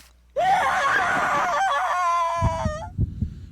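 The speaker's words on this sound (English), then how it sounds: "From the other side of the door I hear Rosa scream in pain" A woman's long, piercing scream of pain in the horror game Spirit Hunter: NG rings out loud and close for about two and a half seconds, followed by a few dull low thumps.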